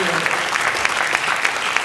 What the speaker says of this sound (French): On applaudit Muscard, bravo